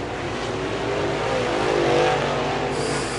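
Late model race cars roar down the back stretch of an oval track in a heat race, a steady loud engine drone that swells toward the middle as the pack passes, then eases slightly.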